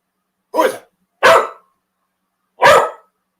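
A dog barks three times alone, loud and close, with two quick barks followed by a short pause and a third bark, each a sharp burst with quiet between them.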